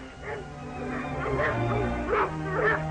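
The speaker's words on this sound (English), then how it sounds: "Well, here are the dogs." Dogs barking and yipping in a 1949 crime thriller, several short barks and whimpers from nearby dogs repeating at irregular intervals over a low background hum.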